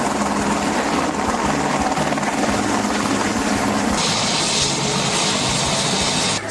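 A helicopter's rotor thumps and engine roar fill the air continuously, loud and close, with the whine brightening partway through.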